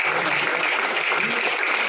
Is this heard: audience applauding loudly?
yes